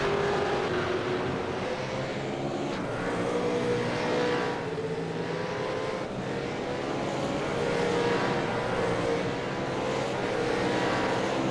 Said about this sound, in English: Listen to that roar of these V8 Supercars as they come hurtling down one of the fastest sections of this track.